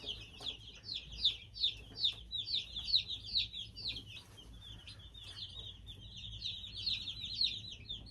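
Young meat chicks in a brooder peep continuously in a dense, high-pitched chorus of overlapping chirps, fairly close and steady throughout.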